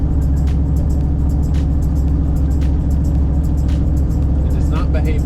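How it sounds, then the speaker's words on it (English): A steady, loud low rumble of a Chevrolet C10 longbed truck with exhaust rolling down the road, heard from inside the cab, constant engine drone with occasional light ticks and clicks. "It rides real good with the exhaust on it."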